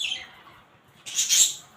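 A pet parrot at a farm gives a short, sharp, high squawk near the end, after a fainter chirp at the start with quiet between.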